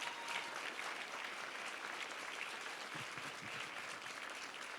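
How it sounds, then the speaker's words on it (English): An audience at a university fashion show applauds the designers and students, a steady, fairly soft wash of clapping heard from a distance throughout. "let's give another round of applause to all these fabulous designers and students"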